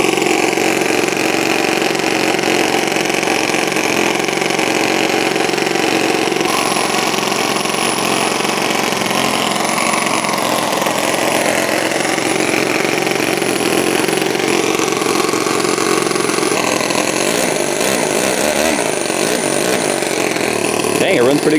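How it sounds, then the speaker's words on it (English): A nitro two-cylinder four-stroke model engine runs steadily and loudly throughout, its dense buzzing drone filling the whole stretch with a slight shift in pitch near the end. "Dang, it runs pretty good. They got the tune on this engine really good."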